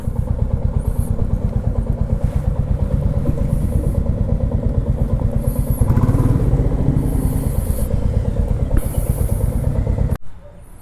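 A loud motorcycle engine idles close by with a steady, throbbing putter for about ten seconds before cutting off abruptly, on a road ride in India.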